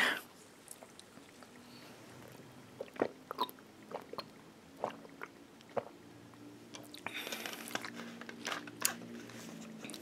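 Pringles Nacho chips eaten up close, with repeated crisp crunches and bites spaced through steady chewing, loud and near in a quiet room.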